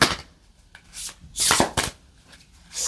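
Oversized, slightly sticky cards are shuffled up close in a few loud, uneven bursts, with crisp slaps and rustles separated by short pauses.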